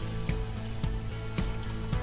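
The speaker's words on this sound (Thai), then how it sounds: "จากนั้นนำไก่ลงผัดเลยครับ" Oil sizzles steadily in a hot pan while food is stirred, with a few soft scraping knocks at regular intervals.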